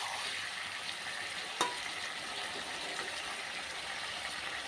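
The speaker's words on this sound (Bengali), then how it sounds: "অল্প নাড়াচাড়া করে দিব।" Chicken with potatoes, spices and salt sizzles quietly in a pan as it is gently stirred, a soft steady frying hiss with one brief scrape of the utensil partway through.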